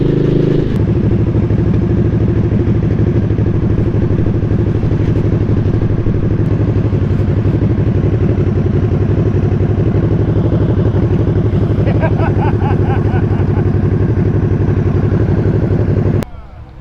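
A motorcycle engine runs steadily while riding, a loud, close, continuous rumble with a throbbing mid-range drone and faint clatter that holds for the whole stretch before dropping off at the end.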